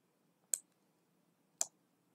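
Two crisp computer mouse clicks, about a second apart, close and isolated against near silence.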